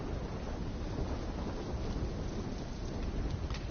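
A steady, loud wash of heavy rain with low rumbling thunder underneath, continuous and dense throughout, with no voices.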